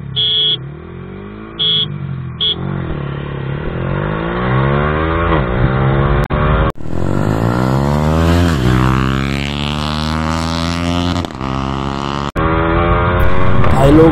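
Yamaha R15M fitted with a full-system exhaust drag racing a Jawa Perak, loud engines revving hard through rising gear runs with sudden gear-change breaks, the pitch sweeping up again and again, close and sustained.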